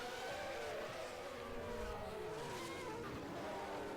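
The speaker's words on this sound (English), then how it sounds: "you can hear Pascal's engine dropping to very low revs as he goes through the low section corners" A 1991 Formula 1 car in a racing video game at Monaco drops to low revs through slow corners, its engine note sliding and wavering under a steady droning layer, fairly faint with no voices.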